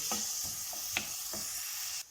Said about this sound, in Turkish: Bir tane yemeklik doğradığım soğanımı koydum ve soğanlarımı kavuruyorum.